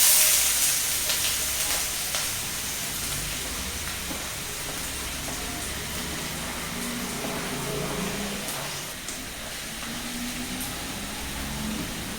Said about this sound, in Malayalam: അപ്പോൾ വെളിച്ചെണ്ണ ചൂടായി കഴിയുമ്പോൾ നമ്മൾ ഈ അരിഞ്ഞ് വെച്ചിരിക്കുന്ന ഇതിലോട്ടിട്ട്